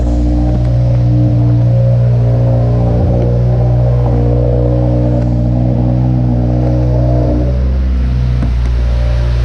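A turbocharged 2018 Subaru WRX engine with its TGV and EGR deleted hums steadily with a deep, continuous drone and a smooth rumble heard from inside the vehicle.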